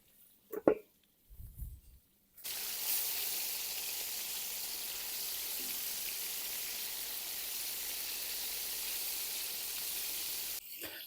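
After a few brief clatters, fish fries in hot oil in a cauldron over a fire with a steady loud sizzle, hissing continuously for several seconds, then cutting off.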